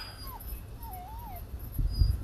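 Puppies on a trout farm give a few thin, high whimpers and yips, moderately close, over a low background rumble with brief soft voices near the end.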